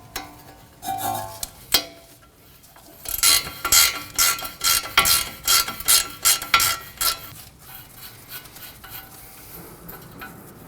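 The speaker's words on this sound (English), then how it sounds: "We'll remove the nut for the ball joint with a 19mm." A ratchet wrench turns a 19mm ball joint nut off the front suspension of a 2016-2022 Honda Pilot. It makes quick, loud bursts of metallic clicking in a steady rhythm, with quieter clanks before and after.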